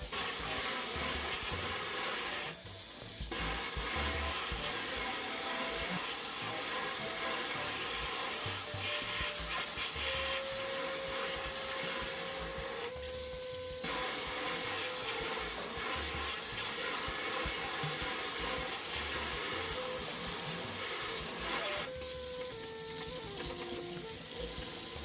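Sega Genesis console parts scrubbed in soapy water under a running tap, a constant loud rush of water with rubbing and splashing throughout, close up and with no talk.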